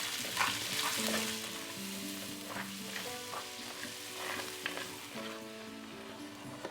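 Chopped onion frying in oil in a pot, a steady close sizzle with occasional stirring scrapes, while faint background music plays underneath.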